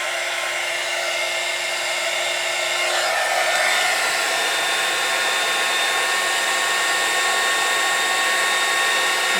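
A heat gun for heat embossing blows with a loud, steady whooshing roar, its pitch shifting slightly partway through as it runs continuously with no talking.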